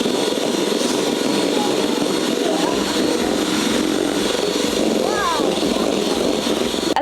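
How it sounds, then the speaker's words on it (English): An electric mixer whisks egg whites toward stiff peaks, a loud, steady high whir that runs without a break. Faint voices show now and then under the motor. "So I've just got to whisk these until we get some stiff peaks."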